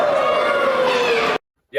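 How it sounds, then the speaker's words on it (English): A wrestling crowd roars and cheers loudly in a sustained burst lasting about a second and a half, then cuts off abruptly. "the crowd was super pumped for this. They were loud from bell to bell on this"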